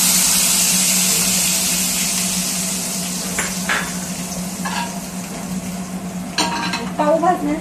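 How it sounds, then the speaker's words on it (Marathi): Hot oil tempering for pav bhaji, with a little chutney added, sizzles loudly in a pan as a steady hiss, then fades while a utensil stirs and scrapes with sharp metallic clinks. "थोडीशी चटणी टाकून पण लगेच तडका देत आहे."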